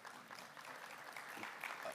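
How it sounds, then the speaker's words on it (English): An audience at a First Nations energy and natural resource leadership summit applauds a sponsor with a steady wash of clapping. It is fairly faint and distant, filling the short clip. "Give them a round of applause"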